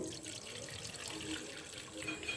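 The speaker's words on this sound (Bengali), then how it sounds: "এরপর আর একটা বাটিতে আমি বাটি ভর্তি জল দিয়ে গ্লুকন্ডি গুলে নেব" Tap water runs steadily into a bowl for dissolving Glucon-D in an ice cream recipe made with flattened rice, a continuous faint rushing stream with no talk.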